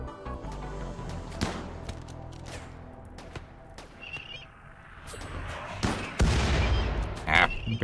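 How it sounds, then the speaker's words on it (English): Mortar blasts and gunfire in the colony-building game RimWorld: scattered sharp reports and booms, several louder near impacts toward the end, with faint bird-like calls and light talk underneath. "Fire mortars here."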